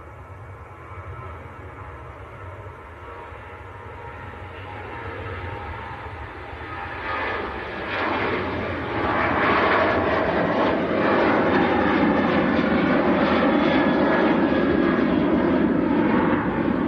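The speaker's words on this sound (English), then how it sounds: "next to go, Ryanair on the roll." A Ryanair jet on its takeoff roll at Manchester: distant engine rumble gradually builds, surging louder around the halfway point into a sustained, roaring spool-up that holds to the end.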